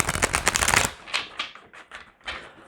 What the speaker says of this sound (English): one more shuffling of Guardians of the Night deck